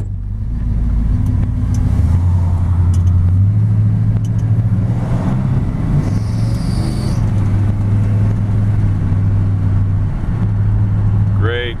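A 1956 Chevrolet 3100 half-ton short-bed pickup with a 700R4 transmission drives along, its steady engine rumble loud and continuous with shifts in pitch as it moves, and someone speaks over it.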